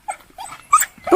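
A farm dog greeting people returning to a rural Hunan home whimpers and lets out short high yips in quick bursts, close and fairly loud.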